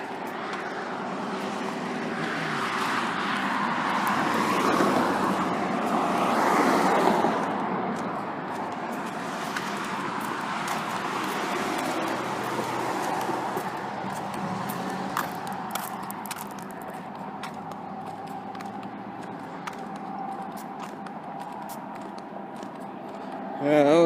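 Steady roar of cars passing on a highway near a Walmart area in Shelton, Washington, a broad continuous wash of traffic heard from a roadside walk, fairly loud and fading slightly toward the end.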